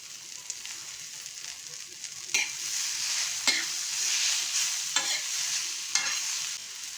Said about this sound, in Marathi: सगळं हे मंद गॅसवर आपण भाजायचं आहे कच्ची कैरी आणि कोथिंबीर जास्त नाही भाजायची